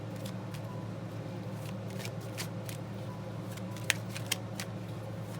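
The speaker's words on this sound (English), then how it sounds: "So I'm going to shuffle the cards." A deck of tarot cards is shuffled by hand in quick, light riffles and soft flicks, with a couple of sharper snaps. A faint, steady background hum runs underneath throughout.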